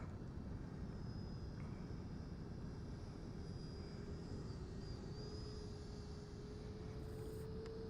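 A Red Arrows BAE Hawk jet on a short take-off and landing: a steady, distant engine roar and whine that stays even throughout, with no speech.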